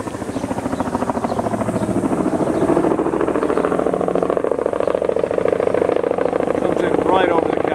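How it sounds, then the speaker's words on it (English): A helicopter arrives to land at Supai, its loud, steady rotor thump and engine whine filling the scene, with a voice speaking over it. "Here comes the helicopter."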